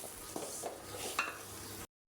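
Close scraping and stirring in a pot over a soft sizzling hiss, with a light metallic clink, ending abruptly in silence.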